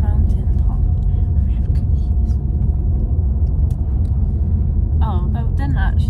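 A car drives over a mountain top in Slovenia, a steady loud low rumble of engine and road noise that runs throughout, with quiet voices talking inside the car near the end.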